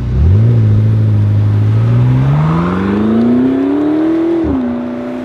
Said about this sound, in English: Still sounds great. That is a hot automobile.